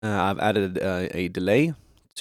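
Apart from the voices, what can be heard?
None of the usual background noises is heard.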